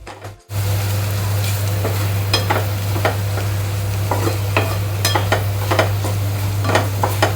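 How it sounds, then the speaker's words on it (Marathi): Spice masala for an onion curry roasting in a pan, with a steady loud sizzle and repeated scraping strokes of a spoon stirring through it. "आता हे व्यवस्थित भाजून घेऊ."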